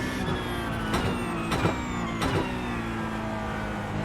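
A Porsche Cup race car in the iRacing sim at Mount Panorama drones steadily at high revs, with three sharp gearshift blips about a second apart and a faint rising whine underneath, loud and close without talk.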